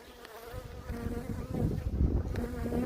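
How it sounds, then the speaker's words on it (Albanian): Honeybees returning with pollen buzz close by, a busy droning hum that grows louder and denser toward the end, with no talking. "Shoh Bletë që vinë me polen"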